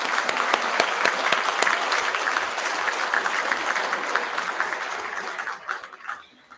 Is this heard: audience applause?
yes